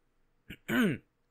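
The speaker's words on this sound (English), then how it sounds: "I burped, but then went to cough" A short throaty burp followed by a rough, voiced cough-like burst, close and fairly loud, then quiet.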